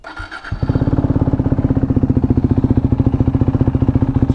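A KTM RC 390 motorcycle fitted with an Akrapovic exhaust cranks briefly, then fires up and settles straight into a loud, close, evenly pulsing single-cylinder idle.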